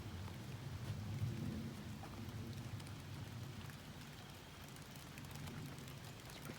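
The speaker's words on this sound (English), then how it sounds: "It just started raining." Rain beginning to fall outdoors in a yard in October: a steady, faint hiss of drops pattering on surfaces, with a low rumble underneath, continuous and fairly distant.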